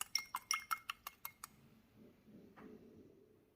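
An egg is whisked in a bowl for Napoleon cake dough, giving about nine quick, evenly spaced, bright clinks of metal against the bowl, close and clear, before fading into soft quiet rustling.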